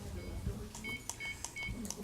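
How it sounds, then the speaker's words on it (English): A mobile phone beeps repeatedly in a city council chamber during a public hearing, a thin recurring tone over steady room murmur and faint voices. "Whose phone is this?"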